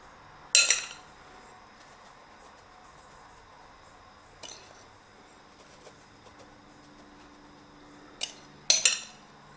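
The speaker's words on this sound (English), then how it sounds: "We're going to take a spoon and we're going to sprinkle it all over the place here." A spoon clinking against a dish while a cinnamon mixture for keto cinnamon rolls is sprinkled, a few sharp, close metallic taps in small bursts separated by quiet pauses.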